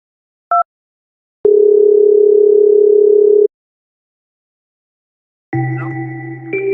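A short beep, then a long steady telephone tone for about two seconds, silence, and a ringing tone starting near the end.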